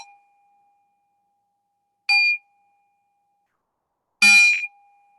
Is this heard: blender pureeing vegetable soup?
no